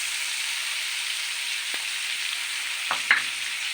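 Ginger garlic paste frying in a pan with oil, turmeric and bay leaf already added, giving a steady close hissing sizzle throughout, with a couple of brief scraping stirs near the end and no talk.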